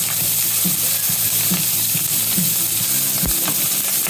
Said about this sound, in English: And you can see this is sauteing nicely.